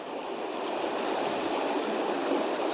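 Rough river water rushing over the River Doon, a loud, steady broadband roar of flowing water with no voices.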